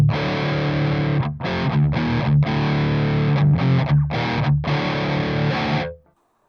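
An electric guitar plays straight through a small Joyo Zombie amp with no pedals, a loud, heavily distorted tone in chugging chords with short choppy breaks, ending abruptly.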